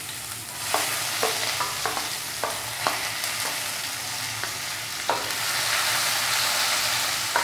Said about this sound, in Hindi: प्याज को हमें अच्छा ब्राउन होने तक के लिए भून लेना है